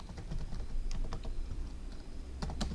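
Fast, steady typing on a computer keyboard as a Flatpak install command is entered on Linux, a dense run of close, crisp key clicks with no talking.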